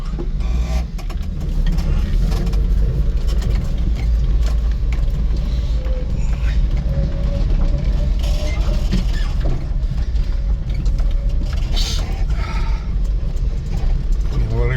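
A 1998 Suzuki Carry 4x4 mini dump truck with a 5-speed manual driving over grass in four-wheel drive, giving a steady, loud, close engine and drivetrain rumble with rattles and creaks, and a person talking over it.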